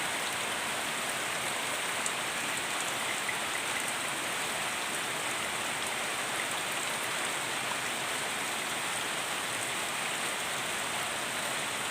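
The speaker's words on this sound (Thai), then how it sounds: "วันนี้ฝนตกค่ะ" Steady rain falls on a rainy day as a dense, even hiss of drops on surfaces, constant and moderately loud throughout with no voices.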